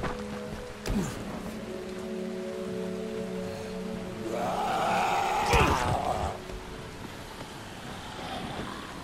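Constant rainfall in a Dying Light thunderstorm, an unbroken wash of rain noise that swells briefly midway with a gusty surge, while a few thin tonal game sounds sit underneath.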